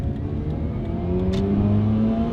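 A Mazda RX-8's rotary engine hums loudly and climbs smoothly in pitch as it revs up in first gear, a steady droning whine with a brief hiss partway through.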